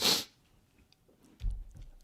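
A single sharp, loud sneeze bursts out at the start, followed by quiet breathing and faint mouth sounds.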